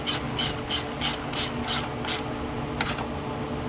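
A ratchet clicks in quick bursts while snugging down plastic fasteners on the engine intake of a Jeep Wrangler JL, about seven even runs of clicking, then a pause and one short final burst, close and clear.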